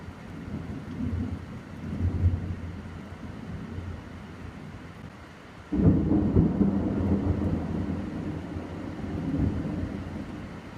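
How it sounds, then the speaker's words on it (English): Thunderstorm in a forest, with steady rain and low rolling rumbles of thunder, including a sudden loud crack about midway that keeps rumbling, heard without voices. "Looks like the storm's coming in pretty quick."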